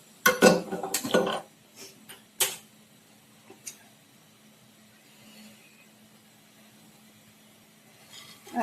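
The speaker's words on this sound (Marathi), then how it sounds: "पॅन ठेवूया गरम करायला." A pan is set on a stove to heat for carrot halwa, a couple of sharp metallic clanks and clatters near the start, then a few lighter taps before a quiet stretch with a faint steady hum.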